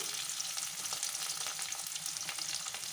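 Chopped onion, garlic and ginger fry in a pan with a dense, even crackling sizzle that stays loud and close throughout, with no voices.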